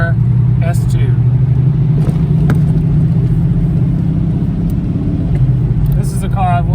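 A TVR S2 sports car engine hums steadily while driving, a low continuous drone from inside the cabin with faint road noise and a few small clicks.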